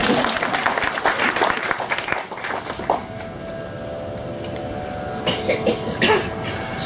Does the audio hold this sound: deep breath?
no